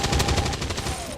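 A short, loud burst of rapid gunfire in XCOM 2 crackles for about a second and then stops abruptly.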